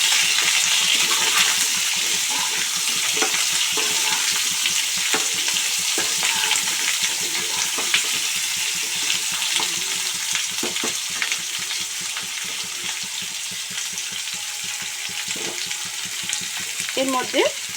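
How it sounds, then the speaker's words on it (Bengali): Cauliflower and potato sizzle steadily in hot oil for a paneer curry, a close, dense frying hiss with scattered crackles and the occasional clink of a stirring utensil. "ফুলকপি আর আলু দুটো একসঙ্গে ছেড়ে দেব।"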